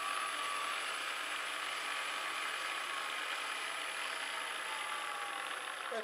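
An electric power tool driven by a Slavyanka motor runs steadily throughout, a continuous whirring hum with a constant broadband whine at even loudness, a slight pitch shift near the end.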